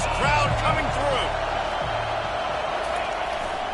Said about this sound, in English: listen to this crowd coming through